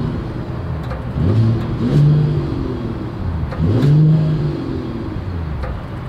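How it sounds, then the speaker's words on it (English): A 2023 Mercedes-Benz GLS 450 SUV revs its exhaust twice, each a loud swelling roar. A steady idle rumbles between the revs, and no one speaks. "As always, here is that exhaust clip."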